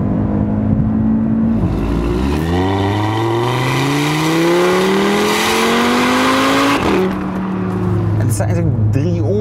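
An Audi five-cylinder engine revs hard, pitch climbing steadily through the gears, then drops and builds again; loud, close, and continuous.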